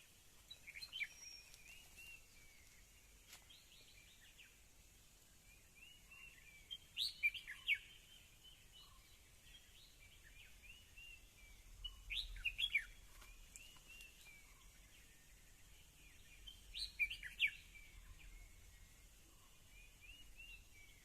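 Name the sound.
birds calling in trees in a wildlife sanctuary forest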